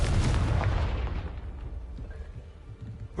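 Hogwarts Legacy's Confringo fire spell detonates in a single heavy, booming blast with a deep low rumble that decays over a few seconds into a fading tail.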